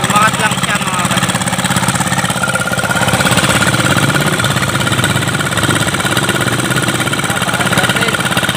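A repaired boat engine runs steadily at a river fiesta, a loud continuous mid-pitched drone with rattling texture that holds for the whole stretch, with voices faintly mixed in.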